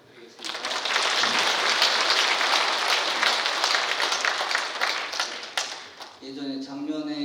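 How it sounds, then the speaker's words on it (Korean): Audience applause at a church Sunday gathering, a dense burst of many hands clapping that swells quickly, holds for several seconds, then tapers as music begins. "큰 박수 부탁드리겠습니다."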